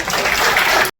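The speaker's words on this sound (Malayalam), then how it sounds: "നല്ലൊരു കൈയടി" Audience at a film event claps loudly and steadily for about a second, dense crowd applause that then cuts off abruptly.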